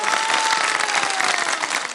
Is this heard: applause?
yes